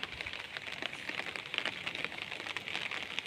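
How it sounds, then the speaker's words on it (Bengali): Heavy rain pours steadily onto a rooftop, a dense, continuous patter of drops that stays loud and close for the whole stretch with no voices. "এই যে প্রচুর বৃষ্টি পড়ছে ছাদে"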